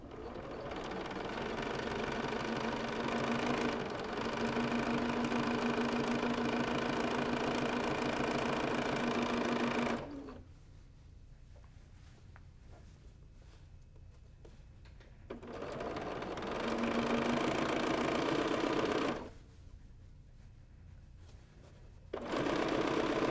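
A sewing machine fitted with a stitch in the ditch foot runs in long, loud, steady bursts while machine binding a quilt, stopping twice for quiet pauses before starting again.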